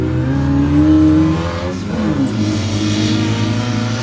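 1600 buggy race cars accelerate through corners in a high-desert off-road race near Powell, Wyoming, engines roaring and revving loudly close by, pitch rising and dipping as they pass, with no talking.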